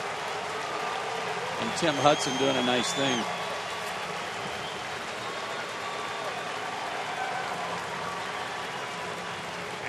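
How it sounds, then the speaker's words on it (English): An Atlanta baseball crowd at a Diamondbacks–Braves game applauds Martin Prado as he comes to the plate, a broad, steady wash of cheering and clapping running throughout beneath a commentator's voice. "listen to this crowd in Atlanta as they welcome Martin Prado to the plate again"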